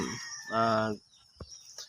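A Rhode Island Red rooster crows once, loud and close, followed by a few softer clucks and chirps from nearby chickens.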